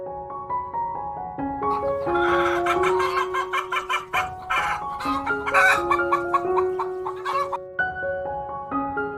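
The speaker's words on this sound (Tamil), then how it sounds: "கோழி" A hen clucks in a quick string of short, bright calls over a steady background of sustained melodic music.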